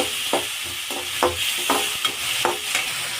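Onion, tomato and curry leaves sautéing in a pan, steady sizzling frying hiss broken by about seven sharp scraping stir strokes in a loose rhythm, close and fairly loud.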